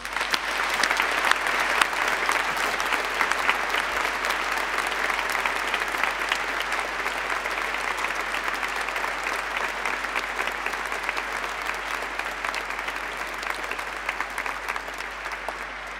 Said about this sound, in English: Now, please give them a huge round of applause.